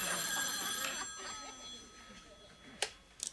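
A telephone rings in a sitcom home scene, its bright, sustained ringing heard near the start before fading, followed by faint voices and a couple of sharp clicks.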